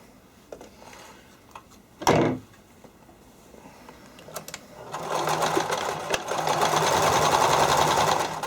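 A sewing machine stitches along the edge of stretchy terry cloth, a steady whirring run building up in the second half after a few handling knocks and one louder thump.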